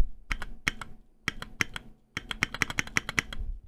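Mechanical keyboard space bar and keys struck in quick bursts, giving close, crisp clacks with a deeper thunk under each press, a short pause between three runs of typing, no voices.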